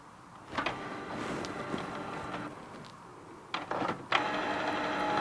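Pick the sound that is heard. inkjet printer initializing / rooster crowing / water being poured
inkjet printer initializing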